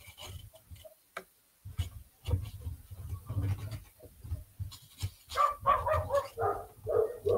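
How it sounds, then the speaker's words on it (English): A dog next door barking in a high pitch, a run of sharp yips heard through an open window, sparse at first and then quicker and more frequent toward the end, with small clicks in between. "there's a dog next door who has got this really like high-pitched bark"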